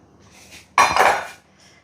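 A metal spoon stirs ground fenugreek and mustard spices into pickle in a pan, giving a short burst of scraping and clinking against the pan, fairly close and loud, with quiet surroundings before and after.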